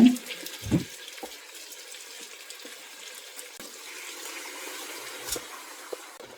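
Water runs and splashes steadily into a cooking pot of soaked raw rice for several seconds, with a faint clunk near the start and soft background noise.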